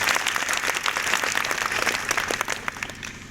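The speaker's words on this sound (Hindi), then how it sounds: "एक बार दिल की गहराइयों से उनके सम्मान में तालियां बजाइए" An audience at a speech event in Krishna Garden, Etah, breaks into lively applause, many hands clapping in crisp, dense bursts that ease off slightly toward the end.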